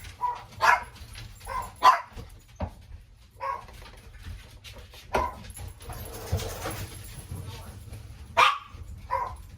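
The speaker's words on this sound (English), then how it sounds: "You're going to hear them bark for a minute." Dogs bark in short sharp bursts, several separate barks spaced irregularly, close by, with some movement and faint voices between them.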